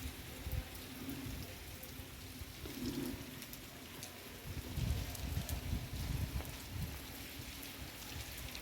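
Light rain falling outdoors, a soft continuous patter with scattered drops, quiet and steady throughout without any voices.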